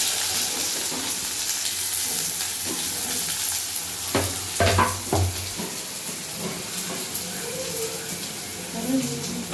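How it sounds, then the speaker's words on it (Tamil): Onions frying in oil while tempering sambar give a steady sizzle and hiss, with a few louder clatters of stirring in the middle and a voice talking over the cooking. "சாம்பார் தான் தாளிக்க போகிறேன்."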